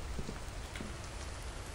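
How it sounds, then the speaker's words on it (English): Steady rain falls outside in a dense, even hiss of drops on surfaces, continuous and fairly loud with no voices over it. "is that rain or is that snow?"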